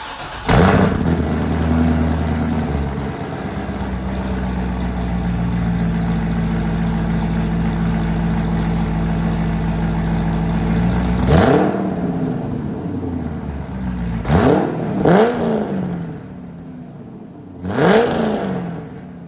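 A Chevrolet Corvette C6 with a new exhaust of headers, mid-pipes and mufflers idles with a deep, burbling note, then blips its throttle in several sharp revs near the end, with no talking.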